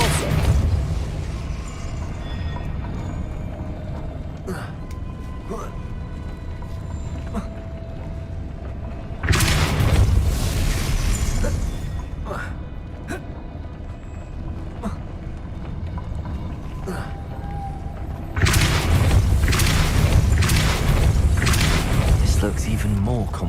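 A Depulso spell is cast in a Harry Potter video game, with two broad, forceful bursts standing out over continuous game ambience, scattered mechanical clanks and a voice.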